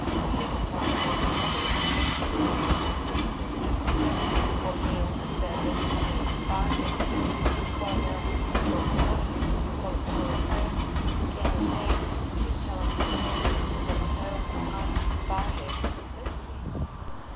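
An empty coaching-stock train pulls out of Glasgow Central station, its wheels squealing loudly against the rails with steady rumbling and clatter throughout, the sound rising and falling slightly as it moves off, with no talk over it.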